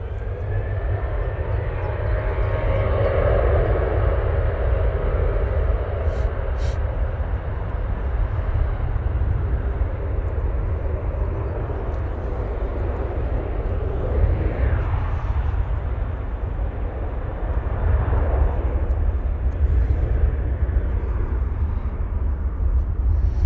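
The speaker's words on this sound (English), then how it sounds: "Using the 737-800." A Ryanair Boeing 737-800 bound for Shannon rumbles steadily with deep low engine noise, rising slightly toward the end, its sound continuous at moderate distance.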